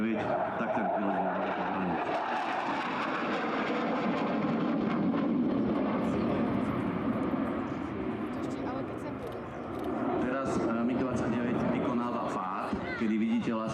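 A MiG-29 jet fighter of the Polish Air Force flying a solo air display, its loud continuous engine roar filling the sky steadily, with a narrator talking over it throughout.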